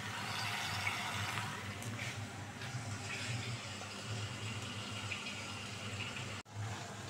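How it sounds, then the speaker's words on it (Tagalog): Continuous rushing of water being poured into a cooking pan, steady and close for several seconds, ending with a brief clunk. "Lagyan ko siya ng kunting tubig para hindi siya masunog."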